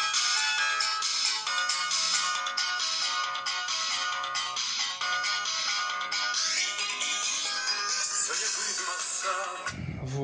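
A Xiaomi Mi5s plays its ringtone through its loudspeaker: a tinny, metallic, bright melodic chime that repeats steadily for about ten seconds and then cuts off abruptly.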